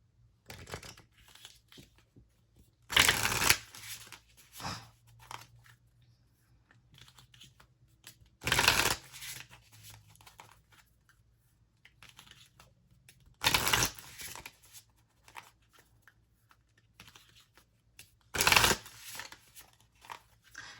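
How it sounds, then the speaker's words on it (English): Oracle cards are shuffled in short, crisp bursts, four evenly spaced riffles spread over quiet stretches with faint handling rustles in between. "I'm going to go ahead and pull from an oracle now."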